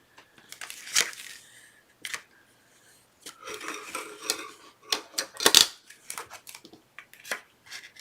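Tape pulled from a roll and torn while making a DIY notebook, a series of sharp crinkling rips and crackles in irregular bursts, close and clear with quiet gaps between.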